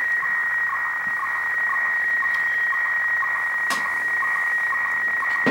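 Weather fax transmission received on shortwave radio, a steady tone with a faint rhythmic ticking pattern under hiss and static.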